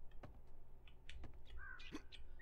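Bird calls in the 7 Days to Die game world, a few short caws and chirps scattered over faint ambient hum, fairly quiet and distant, with no talking.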